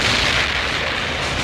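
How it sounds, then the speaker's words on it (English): A loud explosion from the film Chopping Mall roars as a dense, sustained broadband blast that fills the whole moment with no break. "Good explosion."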